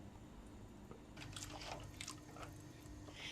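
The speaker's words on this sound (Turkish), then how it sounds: "İçine topak falan varsa burada kalsın diye süzerek böyle koyuyorum" A watered-down sauce mixture poured through a strainer in a home kitchen makes soft, wet trickling and dripping sounds. They are faint and close, starting after about a second and continuing over a low background hum.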